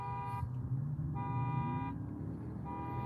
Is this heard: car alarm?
yes